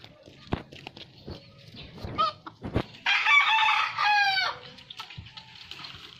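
A fighting rooster crows loudly at close range, with clucking, scattered knocks and rustling around it, and people speaking faintly in the background.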